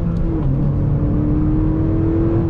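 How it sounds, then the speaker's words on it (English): Manual transmission car driving in a lower gear, a steady close engine drone with a slight pitch change as it goes into third, no voices. "Like, for example, I could go into third gear."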